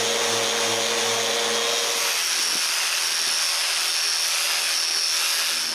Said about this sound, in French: Puis je sable les bavures d'époxy que j'ai laissées quand j'ai bouché les trous de verre.